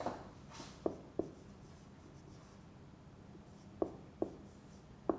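Chalk or marker strokes on a board during a lecture: several short, faint taps and scratches, scattered unevenly over a quiet room tone, with no speech.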